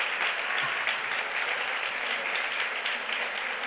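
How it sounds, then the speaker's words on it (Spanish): An audience applauds a theatre cast at a women's day event, steady dense clapping held at an even level throughout, heard from within the hall. "Un fuerte aplauso para ellas."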